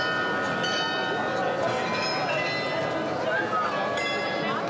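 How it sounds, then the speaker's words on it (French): Carillon bells ringing across Marienplatz in Munich, Germany's largest carillon with 32 figures, sound as sustained tonal chimes over a dense, steady crowd and street bustle throughout. "À une centaine de mètres de là, résonne 3 fois par jour le carillon de la Marienplatz."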